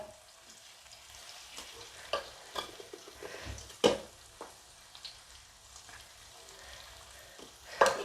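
Beef for beef pickle sizzling in a pan with occasional scraping stirs and clanks of a utensil, close by, with a louder knock near the middle and end.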